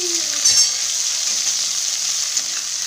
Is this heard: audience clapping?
no